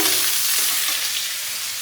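Loud, close sizzling of cauliflower frying in a pan, a steady crackling hiss throughout.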